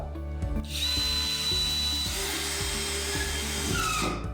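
A power drill drives a screw down into a floor to stop squeaks, whirring loud and close for several seconds over a rhythmic low chugging, alone without speech.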